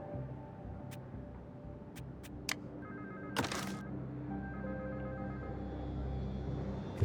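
Telephone ringing inside a crime video game, a faint intermittent electronic trill repeating in short bursts over a low steady background hum, with a few sharp clicks mixed in.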